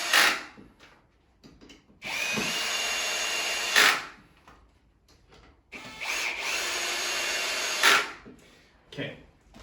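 A power drill drives 2-inch screws into the wood of a Montessori climbing triangle during assembly, in two long steady whirring bursts of about two seconds each, with a short third burst at the end and quiet handling noise between them.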